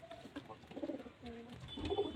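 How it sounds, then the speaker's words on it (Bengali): A steel-coloured male pigeon coos softly at close range, several low throaty rolling calls in quick succession against a quiet background. "একটা স্টিল কালারের নর পায়রা"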